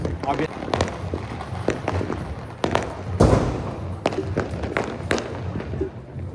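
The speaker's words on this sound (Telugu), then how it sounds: "ఆబ్వియస్లీ న్యూ ఇయర్ కాబట్టి కొంచెం క్రాకర్స్ హడావడి జరుగుతుంది" New Year firecrackers go off in the distance, a scatter of sharp pops and thuds at irregular intervals over several seconds. One louder burst stands out, and a person talks over the noise.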